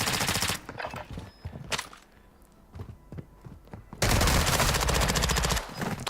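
Loud bursts of automatic gunfire open and close a video game exchange, with quieter thumps and scattered shots in the lull between.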